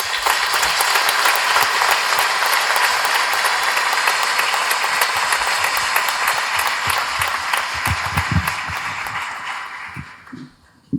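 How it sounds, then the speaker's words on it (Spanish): Loud, sustained applause from a large audience opening an evening panel on Latin America, dense clapping that holds steady for about ten seconds and then tapers off at the end. "damos comienzo al panel con un fuerte aplauso"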